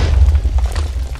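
TNT blast from a Minecraft lucky block, a heavy low rumbling boom that fills the whole short moment at close range and high volume.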